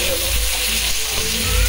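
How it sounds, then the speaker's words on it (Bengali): Salted potato pieces and onions fry in a hot pan, giving a loud, close, continuous sizzle and crackle without talking. "আলু দিলাম, দিয়ে একটু নুন দিয়ে এবার ভাজবো এগুলো"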